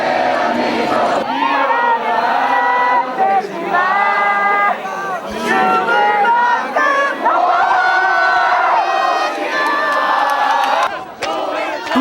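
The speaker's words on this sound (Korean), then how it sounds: "격렬한 구호 사이로 귀에 익은 대한민국 구호와 대중가요 멜로디도 들을 수 있었습니다" A large crowd at a candlelight protest rally chants and shouts slogans in loud, rhythmic unison bursts, voices cheering in waves throughout.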